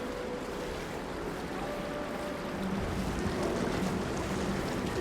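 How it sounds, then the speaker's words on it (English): Water in Horizon Forbidden West flows toward a drain in a wall, a steady rushing wash that grows fuller and louder partway through, heard alone. "Water flowing towards the drain in the wall."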